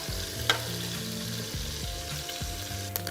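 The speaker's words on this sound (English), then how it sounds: "once I have my beef browned, I'm going to take it out of the pot and set it aside for now" Beef browns in a hot pot for borscht, giving a loud, continuous sizzle and crackle with a low hum under it and a couple of sharp clinks, no voices present.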